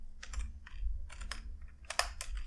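Close, loud clatter of keys on a computer keyboard as React code is typed, arriving in quick uneven bursts with short pauses between them.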